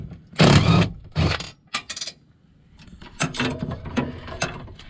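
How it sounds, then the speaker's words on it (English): A ratchet wrench with a 12 millimeter socket backs bolts out of a Honda Pioneer 700 utility vehicle, giving bursts of rapid clicking, two long loud runs followed by shorter, scattered clicks and scrapes close by. "we're gonna take a 12 millimeter socket and take out both bolts."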